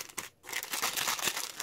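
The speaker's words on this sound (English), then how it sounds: "let me split this in half because it's 2 packets" A Kopiko instant coffee twin packet being torn apart, close crinkling and crackling of the plastic wrapper in a brief burst after a short pause.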